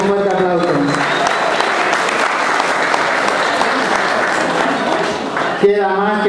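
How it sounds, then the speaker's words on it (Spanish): A crowd applauds steadily for a police commissioner at a municipal gathering in Villa Olivari, Corrientes, the dense clapping lasting several seconds before a voice speaks briefly at the end. "así que para él también un fuerte aplauso"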